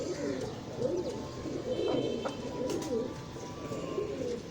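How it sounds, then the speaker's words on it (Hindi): A Kamgar pigeon coos repeatedly in soft, rolling bursts, close by, with a few faint chirps in the background. "ये देखें, कमगर कबूतर है ये।"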